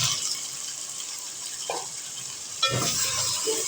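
Potato pieces go into hot oil with browned garlic for aloo tahiri, a steady soft sizzle hissing alone before a sudden louder splash and crackle as they land, then continued frying.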